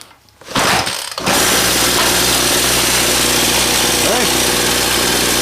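A small two-stroke engine, freshly fuelled with new petrol and two-stroke oil, starts up and runs steadily at a loud, close, buzzing drone, with a brief voice over it near the end.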